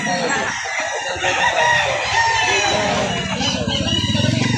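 Chickens and roosters at a poultry market in Lipa City, Batangas, cluck and crow close by in a dense, continuous chorus, with people faintly talking underneath.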